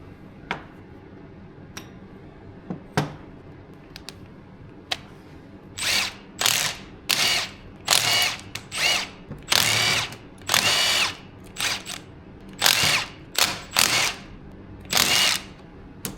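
Power tool spinning out 10 mm bolts from the oil pump casing on a BMW E36 with an M62 engine swap, with a few light metal taps and then a run of loud, close bursts of whirring.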